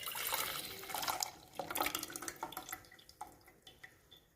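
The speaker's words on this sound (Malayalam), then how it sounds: "ഞാനിവിടെ ഇത് മുഴുവനായിട്ടും ഈ കപ്പിലേക്ക് ഒന്ന് ഒഴിച്ചു കൊടുക്കുകയാണ് കേട്ടോ." Natural hair dye liquid is poured into a cup, giving a close, quiet stream of splashing and dripping that trails off into scattered drips.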